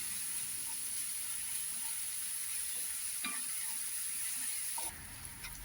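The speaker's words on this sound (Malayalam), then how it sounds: "അതെ, ഒന്ന് ചെറുതായിട്ട് വഴറ്റിയാൽ മതി," Garlic sizzles steadily in hot oil in a pan while being sautéed for a breadfruit curry, a close, even frying hiss with a couple of light stirring scrapes, then the sizzle drops away sharply near the end.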